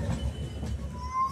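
Harangul–Pune express train rolling into Dharashiv railway station, a low steady rumble of wheels on track with a faint high squeal toward the end, fairly quiet.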